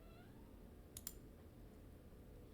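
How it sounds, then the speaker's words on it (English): Pet cats meow faintly in a quiet room near a computer, with a couple of soft high meows at the start, then two sharp clicks and low background hiss. "I'm sorry if you can hear my cats meowing."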